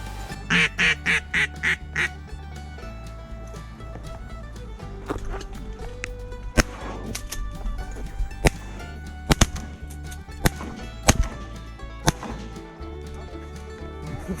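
Ducks quack on a duck hunt, a rapid series of loud quacks at the start, then scattered sharp cracks and knocks over a low outdoor rumble.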